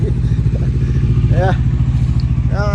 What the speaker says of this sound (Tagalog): binuhay natin yung motor na maingay